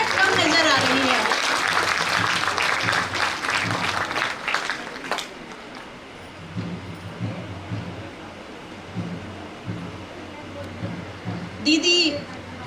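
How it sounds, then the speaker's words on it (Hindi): Hall audience at an International Women's Day event applauding a woman film producer invited on stage; the clapping is fairly thick for the first few seconds, then fades as someone speaks over a quieter room. "जोरदार तालियों में गड़गड़ाहट कम नजर आ रही है।"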